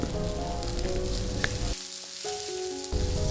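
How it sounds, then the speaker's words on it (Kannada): Chopped onion and cumin seeds frying in oil on a tawa, a steady close sizzle that drops out briefly midway before resuming, with faint tonal hum in the background. "ಒಂದು ದೊಡ್ಡ ಗಾತ್ರದ ಈರುಳ್ಳಿ ಹೆಚ್ಚಿರೋದು ಹಾಗೂ ಒಂದು ಟೀ ಸ್ಪೂನಷ್ಟು ಜೀರಿಗೆ ಹಾಕ್ಕೊಂಡು ಇದನ್ನು ಸರಿಯಾಗಿ ಹುರಿದುಕೊಳ್ಳಿ"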